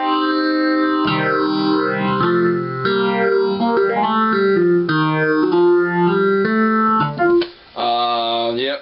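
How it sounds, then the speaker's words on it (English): Keyboard chords played on a Baldwin Pianovelle digital piano through a sweeping phaser effect, the tone swirling up and down in repeated waves, loud and close, with no talking. "I can turn the effect over to the, what is it called, the phaser."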